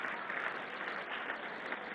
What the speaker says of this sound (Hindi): इस बात के लिए जोरदार तालियां हो जाएं।